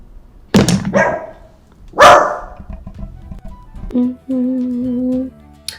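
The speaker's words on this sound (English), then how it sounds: "And a barking dog." A dog lets out two sharp, loud barks about a second and a half apart, followed by a short thump and then a sustained steady tone.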